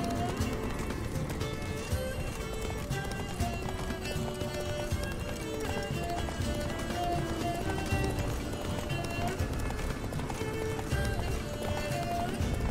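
Rapid hoofbeats of a galloping horse in The Witcher 3: Wild Hunt pound continuously in a steady rhythm, with game background sound and occasional voices mixed in.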